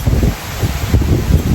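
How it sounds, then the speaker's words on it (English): Strong gusts of wind blowing through trees, a steady low roar with rustling surges and swells, loud and close with no voices over it. "It's super windy."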